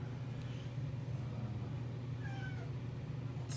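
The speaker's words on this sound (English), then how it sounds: "The cat's there now to get out." A house cat gives a couple of short meows, faint and somewhat distant, over a constant low engine-like rumble during a tabletop wargame session, with no talk.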